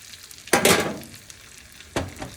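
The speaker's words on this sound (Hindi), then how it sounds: "अब इसमें ये बटर डाल देंगे। 1 टेबल स्पून बटर डाल देंगे।" Butter hits hot oil in a pan with two sharp bursts of sizzling frying, the first longer and louder, the second brief, over a quiet kitchen background.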